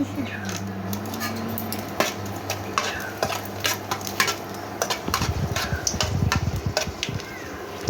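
A dry red chilli fries in a little oil in a wok, with steady crackling sizzle, scattered utensil clinks and scraping stirs that grow busier and louder toward the end.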